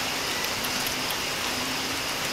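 Downpour of heavy rain in a thunderstorm, continuous broadband hiss with no breaks, close and steady, with no voices.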